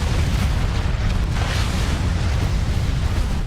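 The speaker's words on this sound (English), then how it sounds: "Or do you just send in nukes?" A nuclear blast in the real-time strategy game Supreme Commander 2 thunders as a dense, sustained low rumble. Roaring, crackling noise sits on top of it, loud and unbroken throughout, with no voices.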